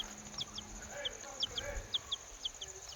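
Small chicks peep in repeated short, high chirps spread across the clip, fairly faint over a low background hum.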